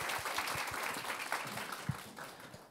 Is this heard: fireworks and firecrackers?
no